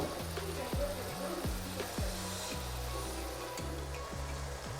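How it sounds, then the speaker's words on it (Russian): A spoon stirs tomato paste into broth in a bowl, giving a steady run of soft, regular scraping strokes about twice a second. The sound is faint and close, with a light hiss of kitchen background. "отправляем томатную пасту в миску, выливаем сюда бульон, и нам нужно это все размешать"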